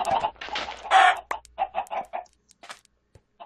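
A Minecraft chicken clucks in a quick run of short, close calls: a few louder squawks up front, then a string of softer clucks that thin out and fade toward the end.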